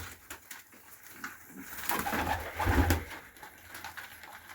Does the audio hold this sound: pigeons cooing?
yes